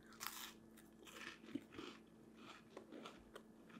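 Crunchy bites and chewing of a crispy homemade snack with overcrisp edges, a few distinct close crackling crunches spaced out over a few seconds, quiet and intimate with no talking.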